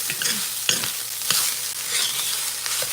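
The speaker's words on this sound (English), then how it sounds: "You hear it frying?" Spam sizzles and fries in a pot on low heat for fried rice, a continuous crackling hiss with scraping stir strokes, close up and alone.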